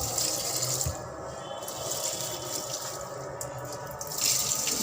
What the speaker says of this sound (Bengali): গাছগুলোর মধ্যে পানি দিয়ে দিই।